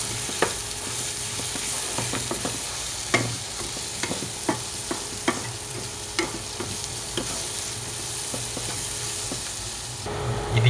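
Chicken curry being stirred in a pan, with a steady sizzle of frying under repeated sharp scrapes and clinks of a spoon against the metal, spaced irregularly over about ten seconds, fairly close.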